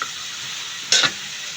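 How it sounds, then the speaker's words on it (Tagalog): Chicken sautés in a frying pan for pakbet with a steady, close sizzle, broken midway by one brief, louder stirring scrape. "At igigisa natin yung chicken."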